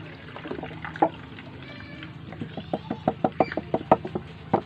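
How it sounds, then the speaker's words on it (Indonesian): A shaken natural pesticide mixture is poured through a strainer, giving an irregular run of small knocking splashes and trickles that grow busier toward the end, close and fairly quiet. "Selanjutnya kita masukkan sambil disaring seperti ini."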